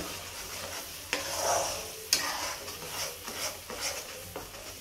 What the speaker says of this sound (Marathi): आता चांगलं परतून घेते तेल सुटेपर्यंत.